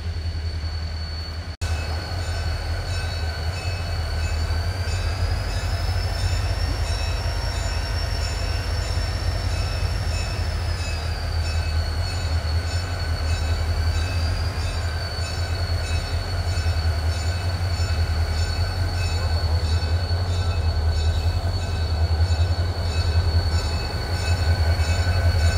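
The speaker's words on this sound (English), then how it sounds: "Oh, okay, they're bringing this locomotive around the side." RJ Corman locomotive moving slowly along railroad track after a coal train derailment, a steady loud rumble with squealing wheel tones rising and falling throughout, close by and without talk.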